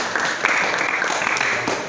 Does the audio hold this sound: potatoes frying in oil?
no